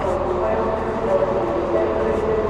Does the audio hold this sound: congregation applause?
no